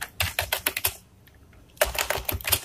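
Quick clattering keystrokes on a laptop keyboard, tapped in short bursts, then a pause of nearly a second before a second run of close, crisp key clicks.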